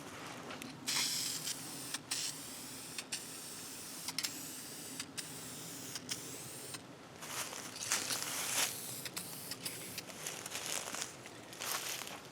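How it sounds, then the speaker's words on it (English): Repeated hissing bursts of an aerosol spray can of polyurethane finish, some long and some short, close by with steady background noise between sprays. "I'm just going to use polyurethane from a spray can"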